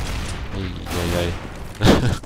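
A professional Counter-Strike: Global Offensive match between mousesports and Virtus.pro on the map de_mirage, with a loud burst of gunfire near the end, heard under a commentator's excited talk.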